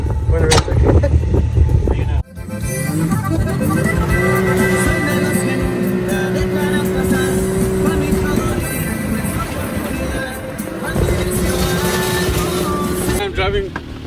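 A Can-Am Maverick side-by-side UTV drives with a steady, loud engine drone and a sustained tonal whine that rises and holds, with wind and rumble throughout; people talk over it.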